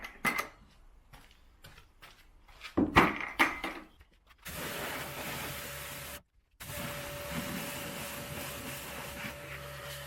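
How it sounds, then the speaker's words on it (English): A car is rinsed down with water after a fallout remover wheel and paint cleaner: a few scattered clicks, then a steady, loud spray hiss with a faint constant tone, broken once by a brief pause. "let's rinse this side down again"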